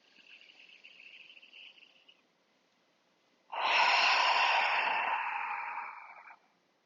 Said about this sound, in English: Take a deep breath in through your nose. Open your mouth, exhale.